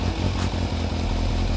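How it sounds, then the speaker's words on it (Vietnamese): A four-cylinder Kawasaki Z900 motorcycle on its stock exhaust revs close by, a steady low throbbing idle with a brief rise in pitch, loud and continuous with no talking. "Đó, đây là tiếng bô zin nè."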